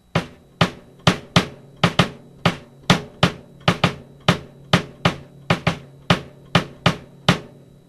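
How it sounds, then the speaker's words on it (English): A drum set plays swing time with an independent bass drum line, giving a loud, steady run of sharp, close strikes with a skipping pulse and brief ringing decay after each hit. "is an independent line to be played on the bass drum"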